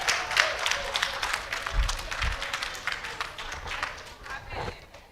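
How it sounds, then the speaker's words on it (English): An audience applauds nursery teachers at a teachers' developmental seminar, a dense patter of many hands clapping at close range for several seconds. "Can you please give an applause to the nursery teachers?"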